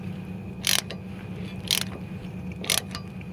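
Three short bursts of mechanical ratcheting clicks from a rear brake caliper piston on a 2009–2015 Honda Civic during a rear disc brake job, evenly spaced about a second apart over a low steady hum.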